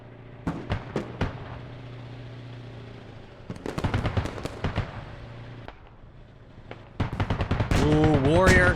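In a military video game battle on Matronino Hills, a BMP fires on a British Warrior armored vehicle. Rapid cracking bursts of gunfire come in several clusters with brief lulls, growing denser near the end, where a voice briefly joins.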